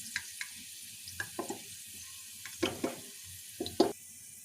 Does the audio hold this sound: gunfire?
no